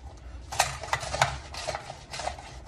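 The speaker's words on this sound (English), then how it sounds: "he will keep dicing that up for us" Knife dicing potato on a cutting board for leek and potato soup, a series of distinct close chopping taps at an uneven rhythm over low background noise, with no talk.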